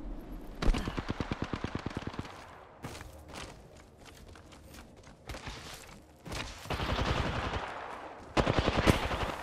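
Gunfire in the Apex Legends video game: loud rapid automatic bursts in several volleys separated by quieter gaps with footsteps and movement, close and punchy.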